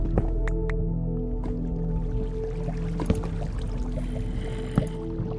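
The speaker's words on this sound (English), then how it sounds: "I hear water." Trickling water in a Minecraft world drips and gurgles steadily beneath a low droning background, with scattered sharp clicks and splashes popping out over a few seconds.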